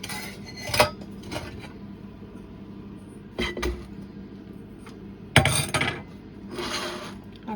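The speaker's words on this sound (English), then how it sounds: "while I pack the jars." Glass jars clink and knock as they are packed, with a few sharp clatters spread between quieter scraping and handling sounds.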